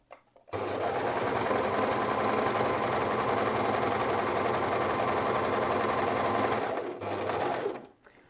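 A sewing machine overcasts the edges of interfaced fabric in one long continuous run, a close, loud, steady whirring rattle that stops briefly, restarts for a moment, then ends.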